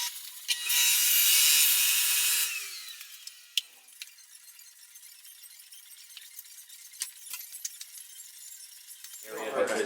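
A prosthetic leg component is cut down to length, giving a loud, bright sawing burst for about two seconds, then quieter scraping, scattered clicks and handling noise, with a voice near the end.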